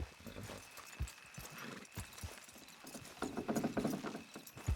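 Horses' hooves clip-clop in an irregular rhythm, close and moderately loud, as horses pull a load in the Red Dead Redemption 2 video game, with a brief faint voice in places.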